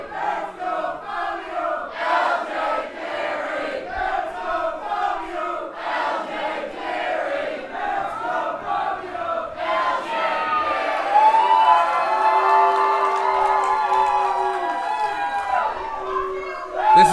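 A wrestling crowd roars and chants before a match at a Grapple Games show, sustained loud cheering and shouting that swells in waves and grows more intense in the second half, with no voice rising clearly above it.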